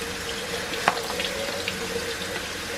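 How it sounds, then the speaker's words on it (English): Warm tap water pours steadily over keto pasta noodles being rinsed in a sink, a continuous close hiss with a faint clink partway through and no talk. "I just run them underneath the warm water"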